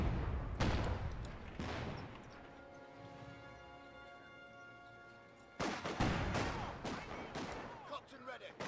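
Emplacement gunfire from a Company of Heroes 2 match: dense bursts of distant shots and blasts open and close the stretch, with a quieter sustained hum in between and speech-like sounds mixed in.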